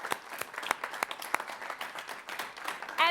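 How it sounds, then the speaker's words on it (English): A modest audience at a School Duel 2011 quiz match between Westminster and Hialeah gives light, scattered applause. The separate claps are fairly quiet and irregular, and a brief brighter sound cuts in at the very end. "Round of applause for all of our contestants."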